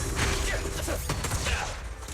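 Rapid gunfire from the video game Zenless Zone Zero, dense bursts of shots crackling over steady game sound, moderately loud and continuous, with some voice mixed in.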